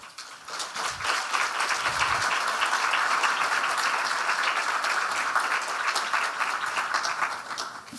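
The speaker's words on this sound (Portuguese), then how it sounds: "Fiquem aí batendo palmas, eu não paro hoje, viu?" A seminar audience on racial authoritarianism in criminal justice applauds steadily, a dense wash of many hands clapping that fills the room and holds for several seconds.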